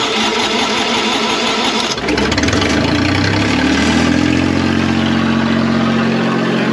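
A three-phase irrigation pump motor starts up outdoors, a loud continuous mechanical drone whose low hum rises in pitch as it spins up to speed and then holds steady.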